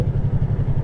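A motorcycle engine rumbles low and steady with an even pulsing throb as the bike coasts in traffic. The sound is close and brief.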